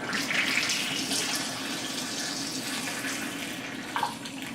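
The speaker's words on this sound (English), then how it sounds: "I'm going to turn on my Kangen Water" Kangen Water 9.5 running from a tap into a bowl in a kitchen, a steady close splashing stream with a brief louder splash near the end.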